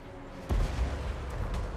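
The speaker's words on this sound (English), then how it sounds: "Cannon!" Cannon fire rings out across a Total War: Warhammer 2 battle, with booming shots and scattered battlefield rumble at moderate distance.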